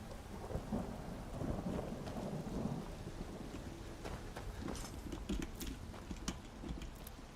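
Rain falls steadily in a video game while thunder rolls and rumbles low beneath it, continuous and fairly quiet with no talking.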